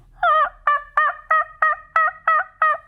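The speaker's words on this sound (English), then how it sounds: "gobbler answers from the ridge." A wild turkey gobbler answers from a ridge with a run of about eight rapid, rattling gobbles in quick, regular succession. The calls are clear and fairly close, with no talk over them.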